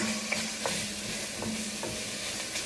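Onions sizzle steadily in a pan as they cook down toward translucent, a close, even frying hiss broken by a few faint clicks of stirring, with no voices.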